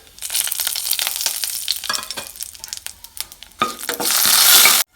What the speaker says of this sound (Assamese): এতিয়া এইখিনি তেলতে তেজপাত 2টা, দালচেনি, তাৰপিছত ইলাইচি, লং, জালুকৰ গুটা দি দিম। ধুনীয়াকৈ ফ্ৰাই কৰিম।